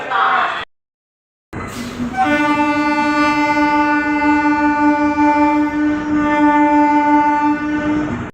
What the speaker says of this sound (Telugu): హారన్ అయితే వేసాడు.